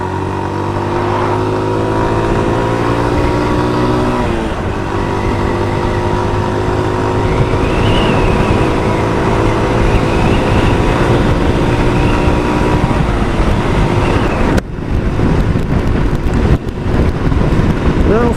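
A Yamaha YBR125 custom motorcycle rides at speed through the Peak District, its engine holding a steady droning pitch under heavy wind rush, then easing off and shifting near the end.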